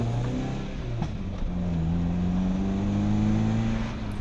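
A ZR 135 car drives through town, heard from inside the cabin as a steady low engine hum with gradual pitch rises as it accelerates and shifts, moderately loud and continuous.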